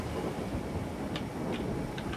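Rain falls in Far Cry Primal as a steady, dense hiss that fills the scene evenly, with a few faint ticking sounds on top and no talking.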